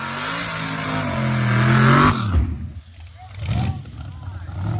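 Nitrous-fed Chevy Nova drag car launching hard off the starting line at a drag race, a loud harmonic engine roar rising sharply then cutting off abruptly, followed by fading rumble and nearby voices talking.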